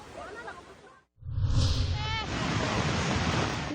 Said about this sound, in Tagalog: Malakas na ragasari ng baha ang pinangambahan ng mga residente matapos umapaw ang tubig sa ilog sa Maasim, Sarangani.